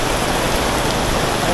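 Heavy rain pours down at a market in Nha Trang, a loud, dense and steady hiss of water drumming on surfaces close by, with no voices.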